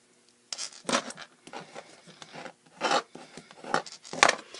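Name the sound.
bone folder creasing cardstock gift card holder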